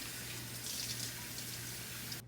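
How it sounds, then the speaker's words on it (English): Tap water runs steadily into a sink for handwashing before making an apple crisp, a continuous close hiss with no voices. "First step is to wash your hands."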